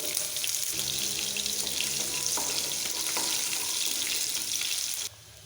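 Steady loud sizzling and crackling of chopped garlic and green chili frying in hot oil for bread upma, with faint clinks of a utensil, ending abruptly.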